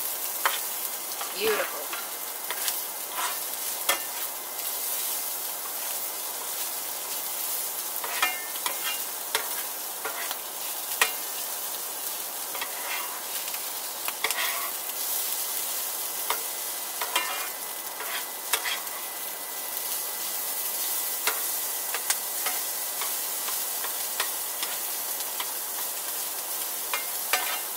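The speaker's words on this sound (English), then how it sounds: "You can see how the apples are starting to caramelize the sugar in them. And the sausage is getting a nice little golden crust on it." Apples and sausage fry and caramelize together in a pan, giving a steady, close sizzle with scraping and stirring throughout, and a single word is spoken briefly.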